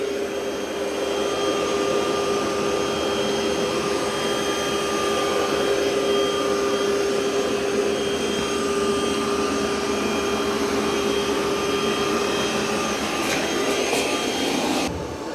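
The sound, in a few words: Roborock Qrevo Curv robot vacuum cleaning carpet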